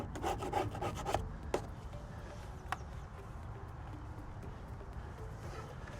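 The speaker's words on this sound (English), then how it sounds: "Let's squeegee that into place." A squeegee rubbing and pressing protective film onto a Tesla Cybertruck lower mirror section, a quick run of close scraping strokes at the start, then a few isolated swipes over quiet background.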